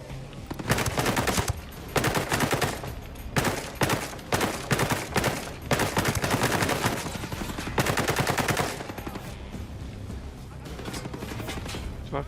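Gunfire in the video game Ghost Recon: rapid bursts of automatic fire and single shots, loud and close, in repeated clusters, with players talking over the action.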